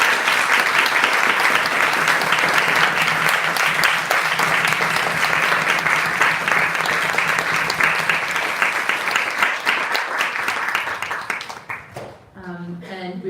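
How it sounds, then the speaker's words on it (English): Sustained audience applause fills a room after a women's storytelling session, dense steady clapping from many hands that fades out near the end as a voice begins. "If you could please join me in a round of applause for these women."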